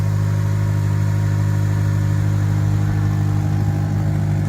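A car engine idles steadily with a low, even drone and a faint ticking, puffing texture on top from a small exhaust leak, unchanging throughout.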